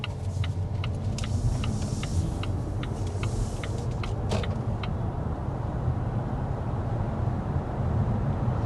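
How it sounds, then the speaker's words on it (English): Volvo S90 accelerating on pure electric power, a low steady road and motor rumble inside the cabin with a few faint ticking clicks early on, no engine note and no talk. "This has very strong electric motor. So when we accelerate here, you'll probably be surprised by how quick it is."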